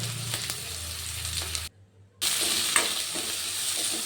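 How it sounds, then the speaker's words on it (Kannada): Green chillies frying in hot oil for a methi and green peas kurma, a loud continuous close sizzle with scraping stirs, broken by a short silent gap midway. "ಇದಕ್ಕೆ ನಾನು ಹಸಿರು ಮೆಣಸಿನ್ಕಾಯಿ, ಬೆಳ್ಳುಳ್ಳಿ ಮತ್ತು ಶುಂಠಿ ಹಾಕ್ಕೊಂಡು ಫ್ರೈ ಮಾಡ್ಕೊಳ್ತೀನಿ."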